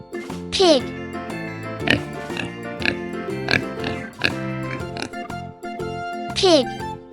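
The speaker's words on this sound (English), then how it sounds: "Pig." A pig lets out two sharp, squealing oinks near the start and end, set against a busy jingling tune that runs throughout.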